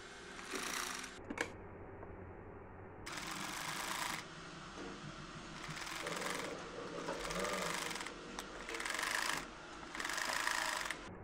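Sewing machine stitching two frock pieces together at the neckline, running in several bursts of steady whirring separated by short pauses, close and moderately loud with no talking.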